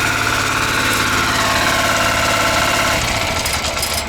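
A walk-behind tractor (motoblock) engine running steadily, a loud continuous chugging drone with rhythmic vibration, close and alone, its tone shifting slightly near the end.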